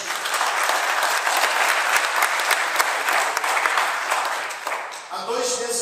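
Sustained applause from a church congregation at a morning service, a dense wash of clapping that fills the room and then fades near the end as a voice starts to speak.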